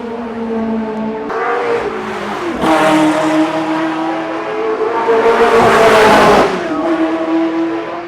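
A Ferrari race car at full throttle on track at the 82nd Goodwood Members' Meeting, loud and close, its engine note rising through the gears with surging high revs and a brief tire squeal.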